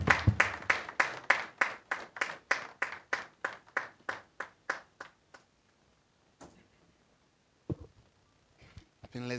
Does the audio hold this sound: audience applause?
yes